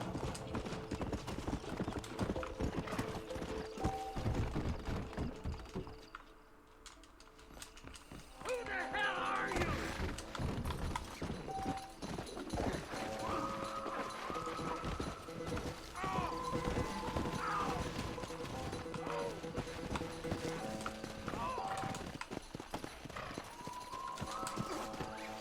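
Horse hooves clip-clopping in Red Dead Redemption, a steady near rhythmic trot that continues throughout with creaking tack, a brief lull, and game music layered over it.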